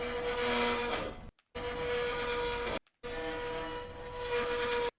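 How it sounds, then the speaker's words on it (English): Godzilla-style kaiju roar built from the screech of a dog poop bag container, heard as three loud sustained grinding, rasping bursts separated by brief silences, with no talk. "I was able to kind of play with it and get a kaiju, like Godzilla type roar out of it"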